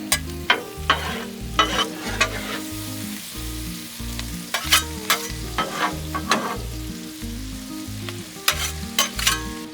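Peppers and onions seasoned with lumberjack seasoning sizzle steadily on a Blackstone griddle, while a spatula scrapes and clacks against the flat top in repeated, close, fairly loud strokes as the vegetables are tossed and mixed.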